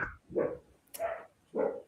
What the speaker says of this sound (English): She's barking at the neighbor dogs.